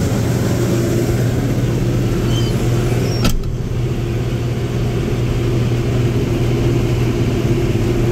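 A loud, steady engine drone comes from a pea harvester with a pickup head driving through five-foot-long viney pea vines in an organic field. A brief clunk is heard partway through.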